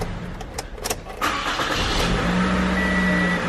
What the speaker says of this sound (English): Start the car and just go ahead and start it a few times.